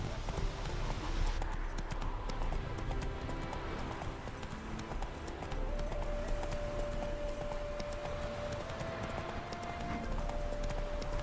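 Roach the horse gallops in The Witcher 3 video game, steady rhythmic hoofbeats clip-clopping close by for the whole stretch under game music and ambience.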